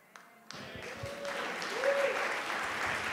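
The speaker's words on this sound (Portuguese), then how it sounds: "É esse aplauso aí para esse aí?" A church congregation breaks into applause that swells gradually after a brief pause, building into steady clapping from a sizable crowd, with a sustained tone and a few sharp sounds at the start.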